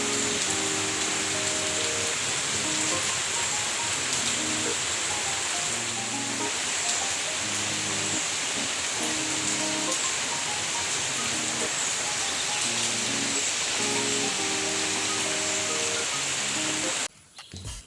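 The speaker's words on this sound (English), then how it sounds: "Today was a rainy day." Heavy rain pours steadily outdoors on a rainy morning, an even, loud hiss of falling water with pattering drops. A faint tonal pattern runs underneath, and the sound cuts off near the end.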